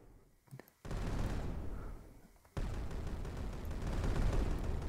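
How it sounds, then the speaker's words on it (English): Rockets firing from a Space Shuttle build in Brick Rigs, two abrupt loud bursts of roaring rocket thrust with a hissing rush, each cutting in suddenly and sustaining, with no talking. "you can fire rockets"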